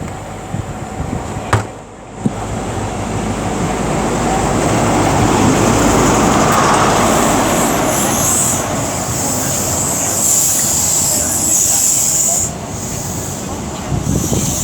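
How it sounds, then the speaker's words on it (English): A CrossCountry high-speed diesel train, class 43 power cars 43304 and 43301 on a Plymouth to Edinburgh service, passes at Tamworth with a loud, sustained rumble and rushing noise lasting most of the clip, plus a steady high whine. "1620 cross-country high-speed train service from Plymouth to Edinburgh."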